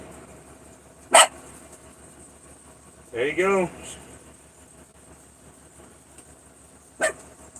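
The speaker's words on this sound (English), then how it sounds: "She's barking for it." A single sharp dog bark rings out close by, followed a couple of seconds later by a woman's short spoken phrase, then a second brief bark near the end over a faint room hum.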